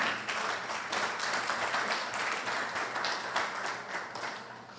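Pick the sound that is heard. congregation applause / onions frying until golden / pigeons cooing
congregation applause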